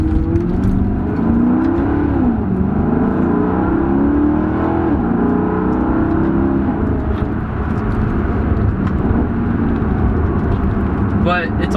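A Maserati GT pushed hard along mountain roads, its engine droning steadily and rising and falling in pitch through gear changes, loud and continuous with faint talk over it.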